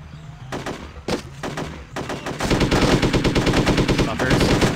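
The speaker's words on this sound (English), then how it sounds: "Give me the machine gun instead" Machine gun fire in Hitman: Codename 47: a few scattered shots give way to loud, sustained rapid automatic bursts with a fast, even rhythm that fill the rest of the stretch.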